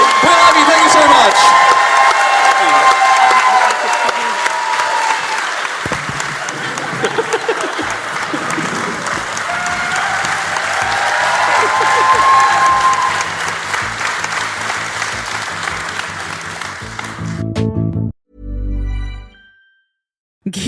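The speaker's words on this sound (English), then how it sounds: "Would you please give a massive round of applause for the 4th and 5th Beatle?" Loud, sustained applause and cheering from a large crowd, with whoops rising over the clapping before it cuts off abruptly near the end.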